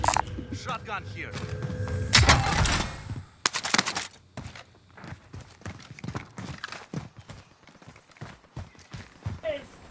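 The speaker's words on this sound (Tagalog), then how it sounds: "Ba yung tunog ng footsteps mo, no?" Heavy footsteps in Warzone thud and clatter in quick succession amid bursts of gunfire-like noise, with faint voices underneath.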